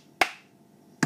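Two sharp hand claps of the two-cup song, spaced about a second apart, close and crisp with a short ringing tail after the first.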